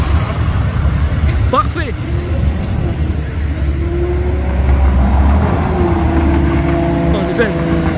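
A supercar accelerates on a Paris street while a bus passes at the same moment, engine noise rising under a steady traffic rumble, with a person speaking briefly over it.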